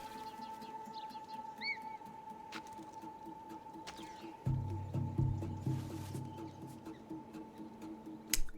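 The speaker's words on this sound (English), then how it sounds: "Pretty bird." In Assassin's Creed Odyssey, faint birds chirp and trill in short bursts over a quiet ambient game bed, while low thumping footsteps or movement come in later.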